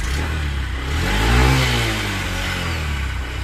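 A 2021 BS6 Honda Livo motorcycle engine revs hard, its pitch climbing to a loud peak near the middle before easing back to a steady drone, close and alone with no talking.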